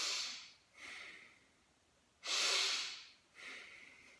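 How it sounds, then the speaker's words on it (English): A person takes sudden sniffs in through the nose, a few sharp, breathy intakes close up in a quiet room, the third the loudest. "take a sudden sniff in"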